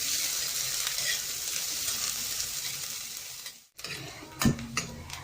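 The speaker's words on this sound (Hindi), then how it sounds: "2 बारीक कटी हुई हरी मिर्च, दोनों को डाल के प्याज के सॉफ्ट होने तक कुक कर ले रही हूँ" Chopped onion and green chilies fry in a pan with a constant close sizzle that drops out briefly, then resumes with a sharp clink of a utensil against the pan, no voices.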